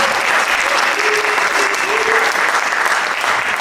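A concert audience at a university band performance applauds steadily and loudly throughout, a dense, sustained wash of many hands clapping with no break.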